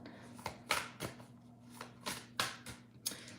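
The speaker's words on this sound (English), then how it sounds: "I'm just shuffling the deck" A deck of playing cards being shuffled up close, a series of crisp riffling bursts and soft flicks repeating every half second or so, with no voices.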